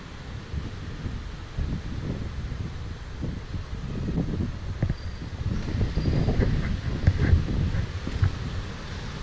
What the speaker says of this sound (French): Ah, on a du vent frais ici, c'est cool.